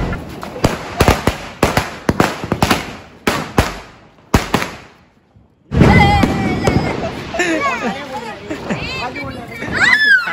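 A rapid string of sharp firecracker bangs crackles close by during Diwali, then stops, and children begin shouting and chattering excitedly.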